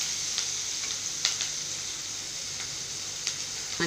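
Onions sizzle and fry in a pan on a home stove while being sautéed for a potato stir-fry, a soft steady crackle broken by a few sharp scraping stirs, with no talking.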